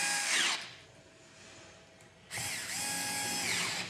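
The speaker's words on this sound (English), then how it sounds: "Turn the 2 screws respecting the tightening torque." A power tool drives two screws into a CVT brake lever on a General Transmissions RT400, two separate whirring bursts, a short one at the start and a longer one after a quiet pause, close and clear.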